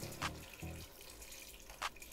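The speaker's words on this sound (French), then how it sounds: "L'eau du robinet." Tap water runs quietly and steadily into a kitchen sink or container while couscous is being made, with a few soft splashes and knocks.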